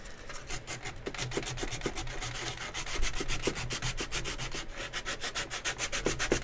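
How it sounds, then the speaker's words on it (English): A toy blaster sanded by hand with sandpaper, producing rapid rhythmic back-and-forth rubbing strokes, close and steady, with no talking. "So let's get some sandpaper here."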